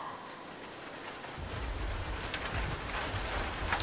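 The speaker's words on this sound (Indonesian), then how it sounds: "hujan ya, suara hujan." Rain falls steadily in a continuous dense patter, starting lighter and swelling into a fuller, louder downpour after a second or so, with no voices over it.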